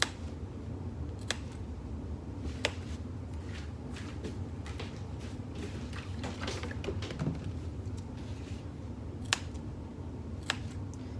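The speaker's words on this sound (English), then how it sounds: "I'm just going to clip within the seam allowance." Scissors clip into the thick seam allowance of a fabric cross-body bag lining near a zipper panel, giving several crisp, separate snips spaced irregularly against a quiet background.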